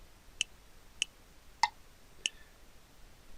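Four evenly spaced metronome clicks, all set to the same sound, tick out sharply against near silence.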